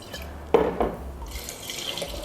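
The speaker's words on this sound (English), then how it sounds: "we'll pour 1 cup of vodka and 1 second cup of vodka into our nibs jar" Vodka pouring into a jar of cacao nibs, a close liquid splash and trickle that starts abruptly, runs for about a second with gurgling, then fades into quieter dribbles.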